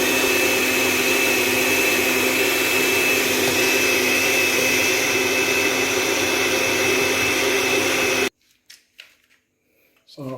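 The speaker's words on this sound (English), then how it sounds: "So I'm going to add these to the blender." A blender whirs at high speed while blending mango and tomato into juice, a loud, steady motor whine sustained for about eight seconds before cutting off abruptly, followed by faint clicks and handling sounds.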